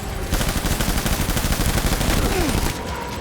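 Loud, dense gunfire from Death Stranding rattles in rapid overlapping bursts for about two and a half seconds, close and continuous, then drops off abruptly.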